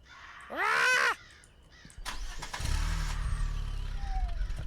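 A loud crow caw bursts once in the Ghost Exorcism Inc. game, followed by a rumbling, engine-like background noise that builds and continues steadily.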